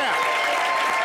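A live audience bursts into loud, dense applause, a steady wash of clapping close and full throughout the short moment.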